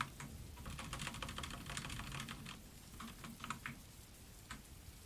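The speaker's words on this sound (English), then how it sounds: "Still practicing typing?" Someone types on a computer keyboard in rapid, irregular bursts of soft key clicks, a steady clatter heard close over low background hiss, with no talk.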